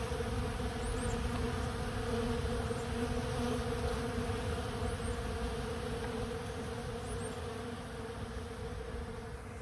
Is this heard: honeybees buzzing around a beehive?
yes